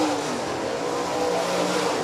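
USRA stock cars in a heat race at Rapid Speedway, engines droning steadily and loudly at full throttle in a dense, continuous roar with no pauses, a faint voice barely audible underneath the racing noise.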